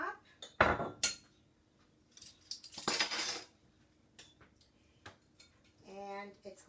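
A utensil whisking and clinking against a bowl while a chicken marinade is mixed, with sharp scattered clanks and scraping bursts, close and fairly loud, and a voice speaking briefly near the end.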